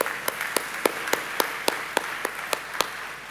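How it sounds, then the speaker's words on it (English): At a leadership conference, a sparse, steady round of claps rings out at a slow even pace, each hand clap sharp and distinct over a quiet room hum. "A round of applause, please, ladies and gentlemen."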